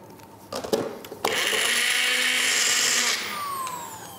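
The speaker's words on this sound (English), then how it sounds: "just blend it for another 20 seconds, just so the powder mixes in" Nutilis Clear thickener powder whirring in a blender with hamburger gherkins. A few handling clunks, then a loud, steady high-pitched motor drone for about two seconds that drops to a lower hum as it winds down, with no talk.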